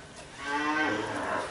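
A single cow on a 300-cow dairy farm gives a clear, mid-distance moo that swells and holds to the end of the short moment, with no talking.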